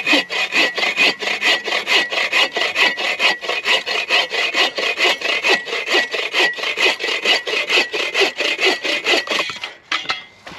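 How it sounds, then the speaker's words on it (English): A hand saw cuts through dry firewood in a steady, rapid back-and-forth rhythm of close, loud rasping strokes for about ten seconds, then the sawing stops. "And I've cut a bunch of wood with this thing, man."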